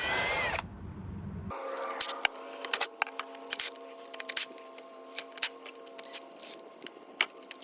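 A power drill whirs in short bursts, removing the transmission pan bolts on a 2000-2007 Ford Focus 2.0L, with metallic clicks and rattles between runs, close up.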